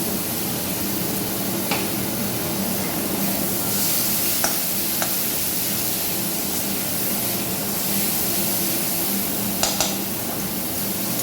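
Green chillies and tomatoes are stirred in a hot frying pan for a spicy duck egg dish, making a loud, continuous hiss of sizzling oil with occasional clicks and scrapes of the spoon.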